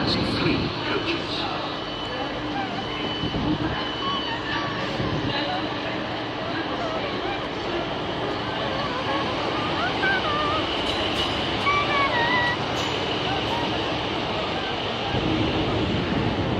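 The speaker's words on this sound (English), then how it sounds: "This train has 3 coaches." A three-coach train at Bristol Temple Meads station gives a steady, loud rumble that holds throughout, with faint high squeals and clanks over the continuous roar.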